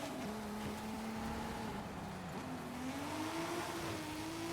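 A McLaren Sabre's engine drones in Forza Horizon 5, a steady tonal hum whose pitch slowly dips and climbs as the car cruises, faint and continuous with no talking.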